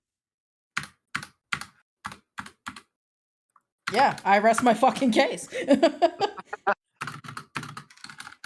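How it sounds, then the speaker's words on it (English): Rapid clacks of a computer keyboard, with backspace and enter keys among them, come as a string of crisp, close keystrokes. A person then speaks and chuckles over the tail of the typing. "It's just the sound of him typing for like 10 minutes."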